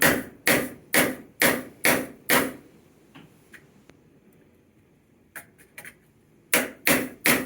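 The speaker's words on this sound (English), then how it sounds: "you hammer it down to set it" Hammer blows setting copper wire onto a metal rod for a copper rose, six sharp evenly spaced strikes, a quiet pause with faint small taps, then three more strikes close by.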